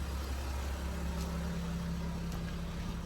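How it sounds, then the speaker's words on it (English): A 2019 Mercedes Sprinter van engine idles with a steady low hum and faint whine, constant and even throughout, heard from inside the vehicle without any voices. "this has to be going when the motor is running, the engine's running"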